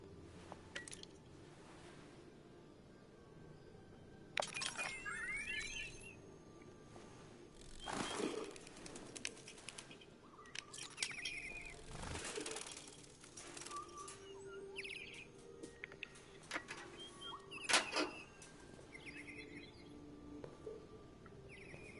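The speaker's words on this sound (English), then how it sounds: "Oh my gosh, let me do the birds." Android birds in the video game Detroit: Become Human flutter and chirp in short bursts of wingbeats and tweets, with quiet ambience between flurries and no talk.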